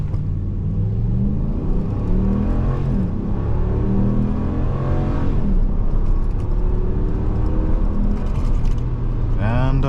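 A 2022 Ram 1500 Classic pickup with the 5.7 liter Hemi V8 accelerates hard from 0 to 60, its engine note climbing steadily through the gears with brief dips at each shift, loud and close from inside the cab.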